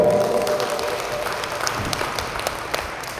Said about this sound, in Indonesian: Tepuk tangan untuk Kopling.